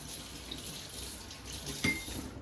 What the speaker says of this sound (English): Bear with me while I give this a nice rinse.